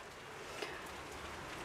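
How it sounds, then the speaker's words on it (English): Steady rain falling outdoors beside a covered area of potted succulents in winter, a soft, continuous patter and hiss with one brief, slightly louder drip standing out. "See, look, it's raining."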